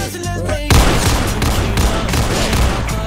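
Desert Eagle pistol fire in the Roblox game Arsenal on mobile: a loud burst of shots erupts after a short tonal game sound and continues as dense, overlapping gunfire and booms for the rest of the clip.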